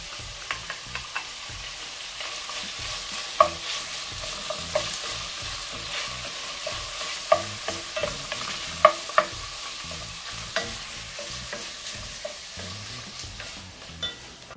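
Saltfish sautés in a pan with a constant close sizzle, punctuated by sharp clicks and taps of a spoon stirring against the pan at irregular intervals.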